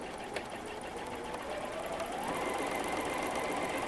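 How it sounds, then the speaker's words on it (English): A sewing machine runs in a steady, fast mechanical whir as it stitches squares of a bowtie quilt block, close and constant for the whole stretch with no speech. "And then sew along these lines"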